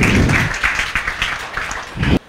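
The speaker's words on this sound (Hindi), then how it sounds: "बजाओ तालियां।" A crowd claps for a couple of seconds, a dense, fairly loud patter of hands that stops abruptly at the end.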